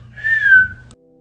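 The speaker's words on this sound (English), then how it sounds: "give a little whistle" A single melodic whistle, close and clear, rising then gliding slightly downward for under a second before cutting off; no talk.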